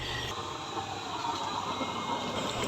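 A used-oil stove burning with its blower running, giving a steady, loud broadband roar and hiss with no break and no voices over it.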